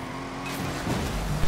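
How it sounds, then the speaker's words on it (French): Car drifting in Ghost Recon: an engine revs up under a sustained tire squeal and skid that swells midway, then holds steady as the car slides through the turn. "J'ai fait un drift, par exemple"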